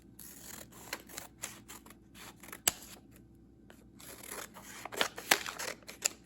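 Scissors snip through a paper tax envelope being trimmed, a series of close, crisp cuts and rustles at an uneven rhythm, with no talking.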